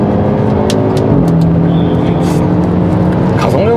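Hyundai Elantra N accelerating on the Inje circuit, a steady engine drone with rising pitch heard from inside the car, with talk over it throughout.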